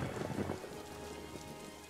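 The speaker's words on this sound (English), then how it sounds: "maybe it's getting a lot of offshore rain" Rain falls steadily in the Daggerfall Unity video game, a soft, continuous hiss with no voices, faint and even throughout.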